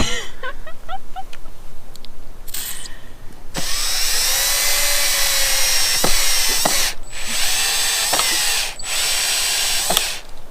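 A loud power drill whirs steadily for several seconds, with brief pauses and clattering knocks as it bores a hole while building a temporary horse shelter.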